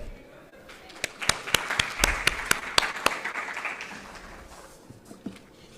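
Applause from a conference audience welcoming a speaker to the stage, heard as a scattering of sharp individual claps over a hushed room murmur, building briefly and then fading away.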